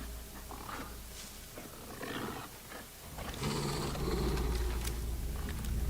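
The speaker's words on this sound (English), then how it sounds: "I hear a wolf." A wolf in the video game Alan Wake II, low growling snarls and roars building in loudness toward the end, heard alone without talk.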